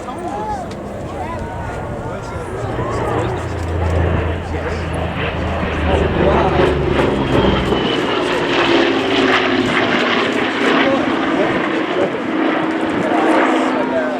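A-26C Invader twin-engine propeller bomber flying at the Duxford Battle of Britain airshow, a steady loud engine drone with shifting pitch throughout, heard under a commentator's voice.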